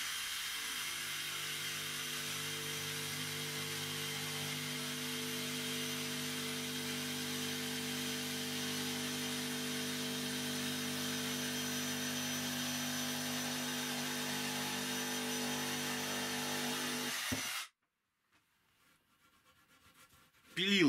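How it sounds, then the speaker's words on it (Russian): A jigsaw saws through a wooden board in one steady, loud, buzzing cut lasting about seventeen seconds, then switches off abruptly into near silence. "сейчас мы попилим вот эту дощечку"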